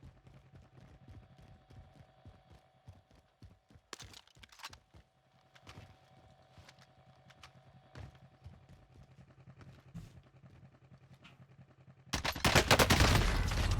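Gunfire in Call of Duty: Warzone, bursts of quick, sharp shots and clattering hits over faint game ambience, fairly soft at first, then a loud, noisy blast swells near the end.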